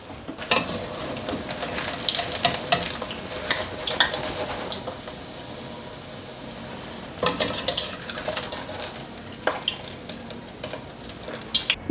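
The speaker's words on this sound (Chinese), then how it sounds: "锅内放入1汤匙的油，油是热的，直接把金针菇放进来炒香。" Enoki mushrooms stir-fry in hot oil in a wok, a continuous close sizzle broken by bursts of scraping and stirring clatter that rise and fall, with no voices.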